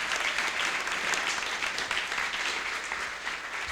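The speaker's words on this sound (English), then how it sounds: "So one more round of applause for Jonathan." A conference audience claps steadily for a keynote speaker at a Land Cruiser enthusiast festival, a dense, even wash of applause from many hands throughout with no voices on top.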